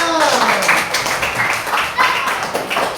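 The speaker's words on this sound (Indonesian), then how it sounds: "Tepuk tangan untuk temannya." Students in a classroom clapping for a classmate after a group quiz answer, a fairly loud burst of mixed hand claps and taps with voices talking over them.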